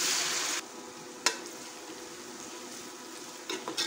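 Dal frying with onions in a pan for a Pakistani dal lobia fry, giving a steady close sizzle, loud for the first half second and then softer, with a sharp stirring knock near the middle and more scraping at the end.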